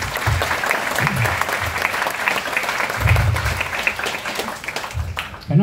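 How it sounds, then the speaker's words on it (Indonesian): A university lecture hall audience of law students claps for the rector, sustained applause with bursts of low-pitched crowd noise and voices rising and falling throughout. "Boleh dikasih tepuk tangan buat rektor."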